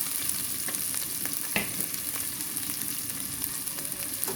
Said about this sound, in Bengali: আমি এখন পেঁয়াজ অ্যাড করে দিব